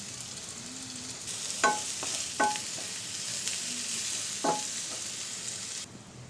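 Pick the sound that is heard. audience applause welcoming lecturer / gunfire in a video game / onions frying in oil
onions frying in oil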